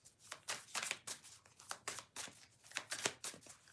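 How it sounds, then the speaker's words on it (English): A deck of tarot cards is shuffled up close in quick, crisp riffling bursts that repeat in an even rhythm, with no voices. "let's try this shuffle again"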